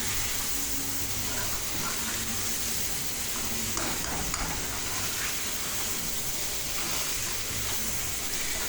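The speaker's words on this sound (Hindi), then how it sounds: "अब अच्छी सी बुनाई करूँगी ताकि मसाले अच्छे से पक जाएं।" Red chili and kadai masala sizzle in a kadhai for a pumpkin and chicken curry, giving a steady, close, bright hiss with faint stirring underneath and no talking.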